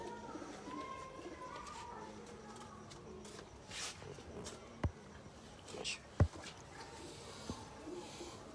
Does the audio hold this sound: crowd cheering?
no